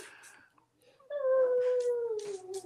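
A dog howls in a long, drawn-out wavering tone that starts with short whimpers, close and fairly loud. A voice is briefly heard at the start.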